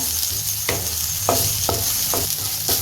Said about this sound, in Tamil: இதையும் சேர்த்து நல்லா வதக்கி விட்டுருவோம்